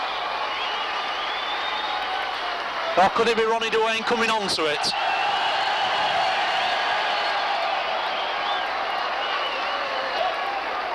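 A rugby league crowd at Warrington versus Castleford keeps up sustained applause and crowd noise for a substituted player, with a commentator talking briefly over it near the start.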